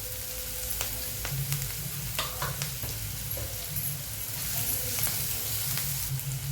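Onions sautéing with a little salt in a pan for a nutritious jowar (sorghum) breakfast dish: a steady, close sizzle and crackle with occasional scrapes and clicks of stirring, no voices.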